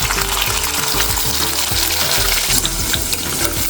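Steady, loud sizzling of onion-tomato paste frying in hot oil in a wok with cumin and curry leaves, with scraping and stirring sounds throughout.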